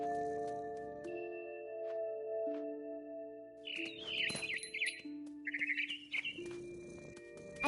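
A mother bird in What Remains of Edith Finch chirps in bright, quick bursts of tweets over a soft tonal game backdrop, fairly close and clear.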